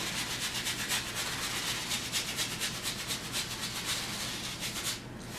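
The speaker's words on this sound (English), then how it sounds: "Watch how I scrub my canvas." A brush scrubs oil paint into the weave of a canvas, a steady dry rubbing with regular back-and-forth strokes, close and continuous, with no talking.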